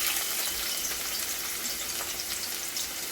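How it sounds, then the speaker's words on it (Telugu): Onions frying in oil in a pan, cooked to a deep brown for biryani, give a steady, close, even sizzle that holds without a break and with no talking. "ఇప్పుడు ఉల్లిపాయలు ఫ్రై చేసుకున్నామండి"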